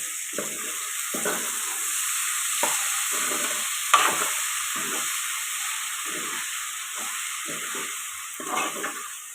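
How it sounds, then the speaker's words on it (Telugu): Drumsticks and cauliflower fry in a pan with tomato purée, a steady bright hiss of sizzling oil under regular spatula scrapes and stirs, close and fairly loud, with no speech. "ఒక నిమిషం పాటు ఇలా ఫ్రై చేసుకున్నాం"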